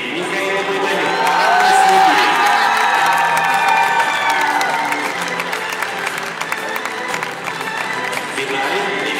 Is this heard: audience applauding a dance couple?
yes